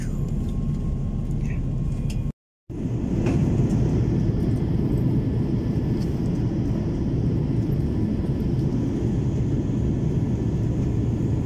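Steady, loud airplane cabin roar during the approach to landing on a flight back to Hong Kong, a continuous low rumble broken by one brief silent gap.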